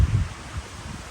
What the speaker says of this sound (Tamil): அந்த மாதிரி அடிக்குது காற்று. நிற்க முடியாத அளவுக்கு காற்று.